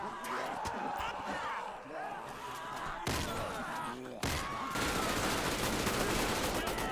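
Dense machine gun fire from a combat MG in a GTA 5 zombie apocalypse mod rattles loudly and continuously, with abrupt cuts and thumps mixed into the chaotic game action.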